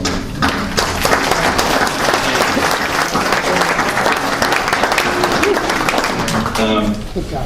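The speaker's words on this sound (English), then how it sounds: "you probably should give yourself a round of applause for getting them here" An audience at a college nursing pinning ceremony breaks into loud, sustained applause with many hands clapping at once, with some voices mixed into the crowd noise.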